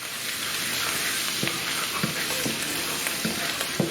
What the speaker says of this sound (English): Keep on stirring it around.